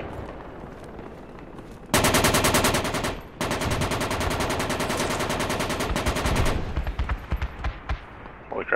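Sustained automatic gunfire in Project Reality comes as loud, rapid machine-gun bursts with a short break, then tapers into scattered single shots.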